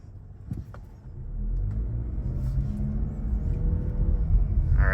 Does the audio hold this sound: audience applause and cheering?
no